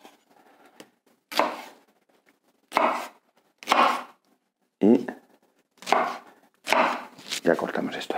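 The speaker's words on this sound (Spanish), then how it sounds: "En este caso sí que le cortaremos la parte del medio, que es mucho más fibrosa" A knife cuts through the fibrous middle of a pineapple in a series of crisp, separate chopping strokes with short pauses between them, close by, while a person talks intermittently.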